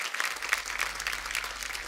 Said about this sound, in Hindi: इतनी ताली बजाने की क्या जरूरत है